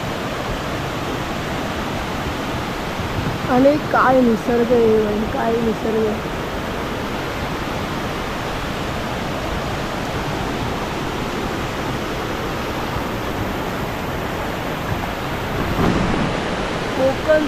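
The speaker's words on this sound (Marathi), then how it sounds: "पाण्याचा आवाज बघा किती फोर्सचा आवाज बघा" Forceful stream water rushes loudly and steadily through green Konkan countryside during monsoon rain, a broad continuous roar close by that runs throughout under a voice speaking.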